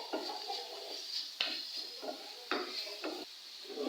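A spoon scrapes and clinks against a pan while samosa vegetable filling is stirred with chili powder, repeated short knocks and scraping strokes at close range with soft sizzling beneath.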